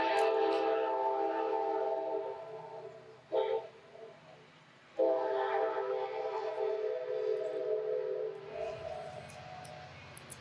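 A passing train sounds a long, loud, horn-like blast. The horn breaks off briefly, then returns and fades as the train moves away, leaving quieter rumbling at the end.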